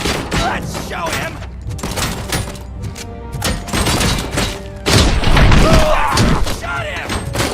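Gunfire in the Robocop Rogue City video game, loud dense bursts of shots and heavy impacts mixed with shouting and combat chatter, continuous and close throughout.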